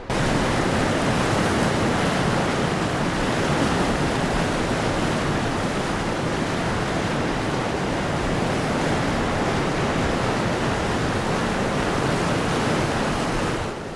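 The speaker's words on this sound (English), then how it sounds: "Below are the springs that give life to the Orontes River." Water at the springs of the Orontes River rushes steadily, a dense, even roar that stays constant and fairly loud throughout with no voices.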